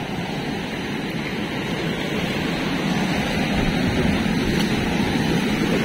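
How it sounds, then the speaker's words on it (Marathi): Sea waves break against huge slippery rocks at night, a loud, steady roar of surging water that swells slightly toward the end, with no voices. "समुद्राचा आवाज पण गायब झालेला. आता परत बघा सुरू झालाय"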